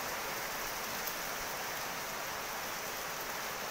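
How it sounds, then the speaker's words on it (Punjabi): Heavy rain pours down over paddy fields and a grain market, a steady, dense hiss with no pauses and no voices. "ਬਹੁਤ ਜ਼ਿਆਦਾ ਮੀਂਹ ਪੈ ਰਿਹਾ।"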